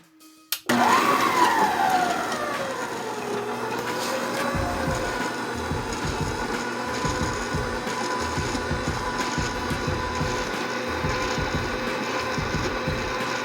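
An electric stand mixer working dinner roll dough at speed 2, starting with a quick click and a rising whine, then a steady, loud motor hum with a rhythmic churning knock from the dough, running alone.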